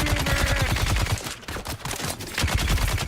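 Sustained automatic gunfire in Dune Awakening, dense rapid bursts with a brief pause in the middle, loud and close, with no speech over it.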